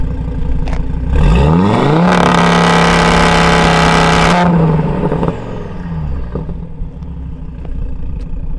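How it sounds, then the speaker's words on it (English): A car engine is revved hard, its pitch climbing in a smooth rising sweep, holding high and loud for a couple of seconds, then dropping back down to a rumbling idle. "there is one way to make this car sound absolutely chef's kiss, and it's by doing this"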